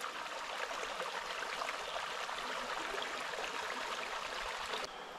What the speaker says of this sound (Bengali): এই হলো এখান দিয়ে পড়ছে জলটা, একদম পুরোপুরি ন্যাচারাল ওয়াটারফল।